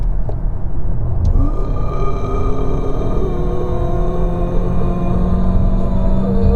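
Steady engine drone and road rumble fill the cabin of a Cupra Terramar on the move, a constant low, dense roar that holds level throughout with no speech.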